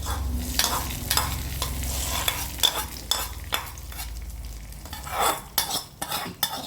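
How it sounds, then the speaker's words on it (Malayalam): Mustard seeds crackling and sizzling in hot oil as a tempering for roasted-coconut chicken curry, a continuous loud fry with repeated spoon scrapes against the pan, close up and without speech. "നമുക്ക് കടു താളിക്കാം"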